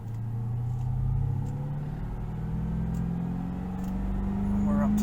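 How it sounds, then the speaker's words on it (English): Holden VZ with an LS1 V8 and a new alternator, its engine steadily revving up, a low rumble rising gradually in pitch over several seconds, close and loud throughout. "Give it a rev."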